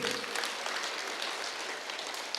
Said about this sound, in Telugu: ఒకసారి గట్టి క్లాప్స్ కొట్టండి